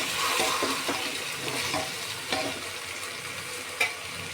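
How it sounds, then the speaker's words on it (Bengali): Eggplant pieces frying in a pan with turmeric while being stirred, a steady sizzle with scraping stir strokes and a few soft knocks of the utensil against the pan. "এখন এটাকে ভালো করে নেড়ে চেড়ে বেশ কিছুক্ষণ ভেজে নেব।"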